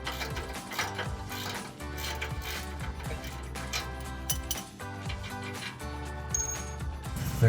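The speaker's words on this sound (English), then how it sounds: "Use this ratchet" A ratchet working loose the exhaust bolts on a 1999-2004 Mustang GT, clicking close up in quick, uneven bursts with short pauses between, and no talk.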